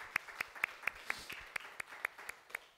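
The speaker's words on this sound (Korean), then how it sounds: "우리 오신 분들 위해서 함께 박수하겠습니다." A church congregation claps to welcome visitors at a Sunday worship service: fairly faint claps in an even rhythm of about four per second, each sharp and distinct, with no speech over them.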